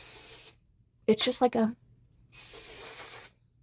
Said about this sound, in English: it's a little aerosol can, and it's supposedly a spray powder